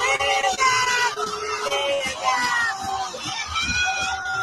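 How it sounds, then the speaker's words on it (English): Screaming and yelling from a crowd, several voices shouting and shrieking at once in a dense, continuous din with children's cries and background babble. "Sounds like a lot of screaming and yelling."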